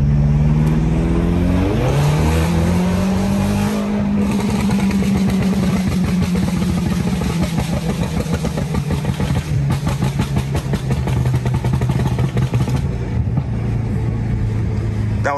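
A car engine runs loud and close, holding a steady drone with a rising pitch early on, then continuing with a rough, pulsing texture.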